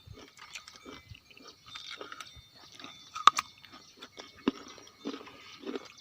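Chewing a fried vada snack close up, soft crunches and mouth sounds in an irregular rhythm, faint and intimate with no talking.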